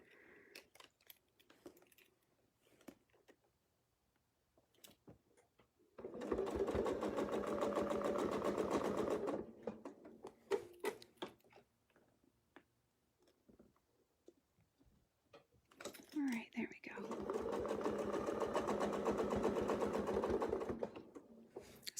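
Sewing machine stitching quilting through layered fabric, running in two steady bursts of about three and five seconds separated by quieter handling and small clicks.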